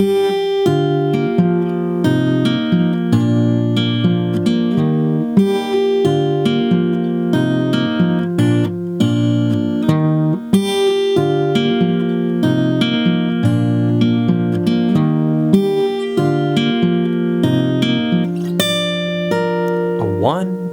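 Acoustic guitar picking the intro of a song at a very slow tempo, with clear, ringing plucked notes in a steady repeating pattern, played alone and close.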